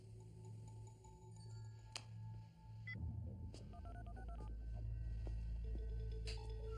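A telephone is dialed in a French thriller scene, a series of short tonal beeps and clicks stepping through the keypad, fairly quiet over a low steady hum and room rumble.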